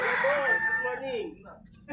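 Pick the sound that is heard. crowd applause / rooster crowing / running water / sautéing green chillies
rooster crowing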